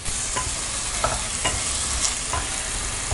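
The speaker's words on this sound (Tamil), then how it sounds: "1 நிமிஷம் வரைக்கும் நல்லா வதங்கட்டும்." Onion, tomato and boiled potato sauté in a pan for a potato kurma, a steady soft sizzle broken by several scraping stirs at a regular pace, close up with no talking.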